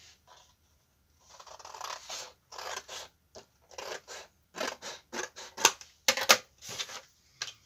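Scissors cutting paper for a fox and panda craft box, quiet close snips coming in irregular bursts, some quick and clustered, with short pauses between cuts.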